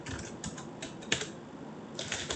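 Quick typing on a computer keyboard while entering a code comment, a brisk run of light clicky keystrokes with brief pauses and one sharper tap in the middle.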